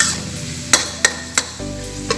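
Onions stirred in spaghetti sauce in a frying pan, a steady low simmering hiss under four or five distinct spoon knocks against the pan, close and clear, no talk.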